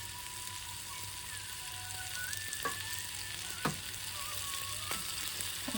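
Chopped onion sizzles quietly and steadily in a hot pan, with a few faint utensil clicks and scrapes over the soft frying hiss.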